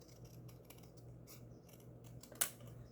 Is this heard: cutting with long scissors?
yes